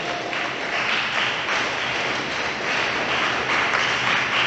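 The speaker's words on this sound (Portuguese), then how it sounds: "dê uma salva de palmas para Jesus bem alegre" A church congregation claps joyfully, a sustained, dense wave of many hands at a steady, fairly loud level that fills the sanctuary from start to finish.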